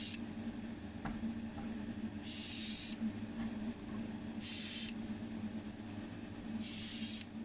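Spray can bursts coating the underside of a Matchbox No 71 Jeep Gladiator die-cast model, three loud hissing blasts of about half a second each with quiet pauses between, alone with no talking.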